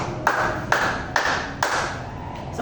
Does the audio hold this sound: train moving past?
no